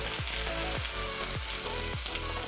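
Small onions, garlic and ginger sauté in oil for a fish curry with young mango, giving a loud, dense sizzle close up, with a rhythmic stirring scrape repeating about every half second.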